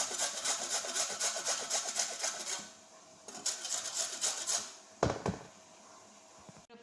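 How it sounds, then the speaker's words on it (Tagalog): Carrots grated by hand on a grater while crouched low, giving a steady run of rhythmic rasping strokes, then a short pause, more scraping and a single knock near the end, with no talking. "Yung carrots guys, kuskusin natin dito."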